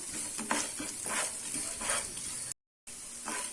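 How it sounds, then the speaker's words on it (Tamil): Onions sautéing in a pan with salt for garlic rice, giving a steady close sizzle with soft stirring scrapes, broken by a brief gap of silence before the frying resumes. "இப்போ வெங்காயம் நல்லா வதங்கிருச்சு"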